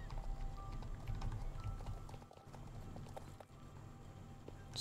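Horse hooves in the Star Stable Online video game clop in a quick, steady rhythm over a low droning background, with no voices present.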